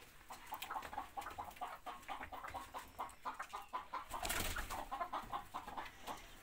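Hens clucking in a backyard coop of about fifteen laying chickens, a busy overlapping chorus of short clucks and calls at moderate distance, with a brief louder flurry near the end.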